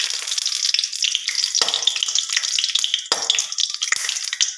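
Food frying and being stirred in a pan for an Assamese paneer thali, a steady close sizzle with a few spoon scrapes through it and no talk.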